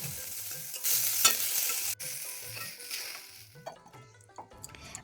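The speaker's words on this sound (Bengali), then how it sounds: "আদা ছাড়া আমি এখানে টমেটো কাজু আর লঙ্কাটা অল্প ভেজে নিচ্ছি" Tomato, cashew and green chilli frying lightly in a pan for a mushroom malai curry masala, with steady close sizzling, a few sharp stirring scrapes and clinks, fading to quieter crackles near the end.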